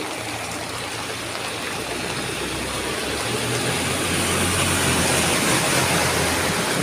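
Floodwater surging through a flooded street past a barber shop during a rescue: a loud, continuous broadband rush with a low rumbling undertone that swells slightly over time, heard alone without talk.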